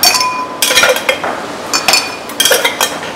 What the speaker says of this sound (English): Now we start stirring our drink,